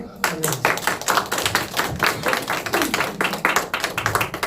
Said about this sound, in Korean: 귀한 말씀 우리 박수로